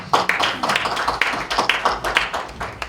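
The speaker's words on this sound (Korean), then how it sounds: "큰 박수로 격려해 주시면 감사하겠습니다" An audience at a Christian forum in a press center hall claps their hands, a steady run of crisp, fairly loud individual claps from a modest crowd without voices.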